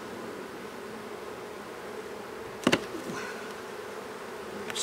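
Honey bees buzz steadily during a beehive inspection, a dense continuous drone from many insects close by, broken briefly by a couple of sharp knocks from the hive.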